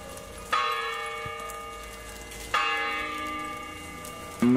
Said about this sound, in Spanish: Está sonando las campanadas de la medianoche.